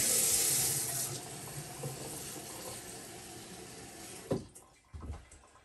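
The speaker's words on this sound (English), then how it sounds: "So let's just put some water in." Water pours steadily from a tap into a pot, a hissing rush that softens over time, ending with a couple of clunks.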